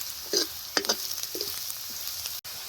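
Browned onion frying in a pan as ginger, garlic and coconut paste is added, a low sizzle under several scraping stirs and soft thuds, ending with a sharp click.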